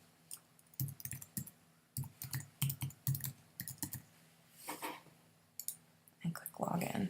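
A username and password are typed on a computer keyboard in quick, close, irregular bursts of key clicks, with a soft voice speaking faintly in between.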